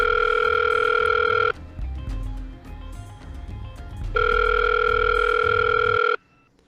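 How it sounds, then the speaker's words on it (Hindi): A phone's ringback tone sounds twice in long steady bursts separated by a pause, loud and close. "पहले मैं इस लड़की को फोन लगाता हूँ।"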